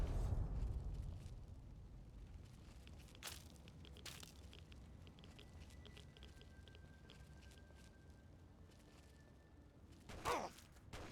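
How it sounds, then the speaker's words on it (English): A video game explosion in a post-apocalyptic wasteland: a deep rumbling boom at the start fading into a long low tail, followed by scattered thumps and a brief burst near the end, with no talk. "Backing off, waiting for the explosion."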